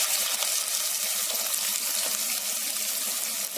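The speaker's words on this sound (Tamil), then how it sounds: "Now I'm adding the onion" Onion frying in a pan for tomato rice, a steady bright hiss and sizzle with faint crackles, continuous and fairly close, with no voices.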